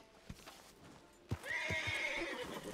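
A horse in the Red Dead Redemption 2 video game whinnies loudly and at length while hooves clip-clop in a steady rhythm beneath it, with a few scattered hoofbeats coming first.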